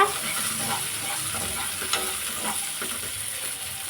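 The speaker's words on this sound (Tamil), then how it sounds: "சின்ன வெங்காயம் சேர்த்து நல்லா வதக்கிக்கோங்க." Small onions sautéing in a pan for a chutney made without tomatoes, a steady soft sizzle with occasional stirring scrapes, close and alone.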